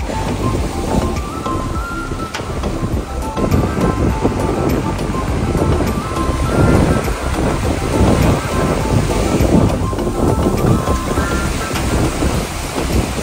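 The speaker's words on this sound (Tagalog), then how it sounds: "Lakas ng alon!" Loud continuous roar of crashing surf in Bataan, Philippines, mixed with gusty wind buffeting the microphone, sustained throughout.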